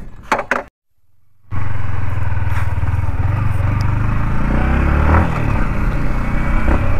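A 2023 Yamaha MT-15 V2.0 motorcycle with a loud exhaust is ridden, its engine a steady close drone mixed with wind rush after a short burst of clatter and a moment of near silence at the start.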